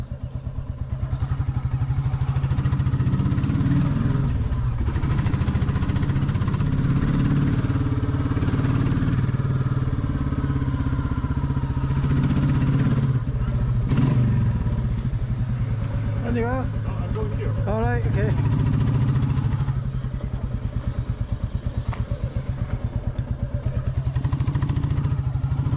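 Royal Enfield Classic 350 Reborn motorcycle engine running steadily and loud for the whole stretch, a continuous low thumping rumble with a few brief clatters.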